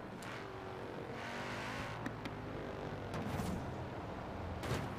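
An AI-driven car in the racing game Forza Horizon 4 passes by with a steady engine drone and a few swells. It is faint and distant, with no talk.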